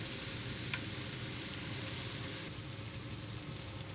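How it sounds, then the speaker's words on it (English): Green beans cook in a skillet with bacon and bacon fat, giving a faint, steady hiss of sizzling throughout, with one small crackle and no voices. "we'll add the green beans and the seasonings to the skillet with the bacon and the bacon fat, and we'll let that cook until the beans are tender"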